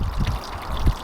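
Water spills from an Aquascape 12-inch DIY spillway over a big stone toward a gravel wetland and pond, a steady close splashing pour with a couple of heavier gushes.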